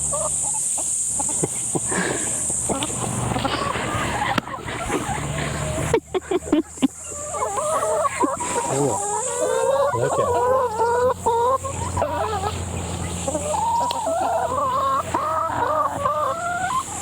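Backyard chickens in tropical Far North Queensland, Australia, cluck and chatter in a steady, close series of calls over a constant insect-like hiss, with a short burst of rustling midway.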